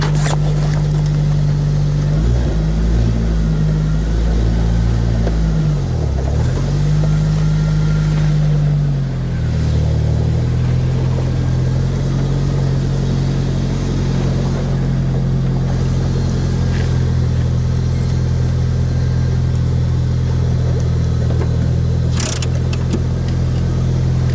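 Lifted Jeep Wrangler YJ with a 4-inch Trail Master lift, heard from inside as its engine drones steadily and loudly throughout, with a few shifts in pitch as it pulls away and is driven.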